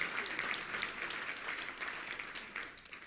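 Audience applause fills a Little Rock Touchdown Club luncheon as SMU graduates are honored: steady, dense clapping from a crowd, loud and continuous throughout with no voices over it.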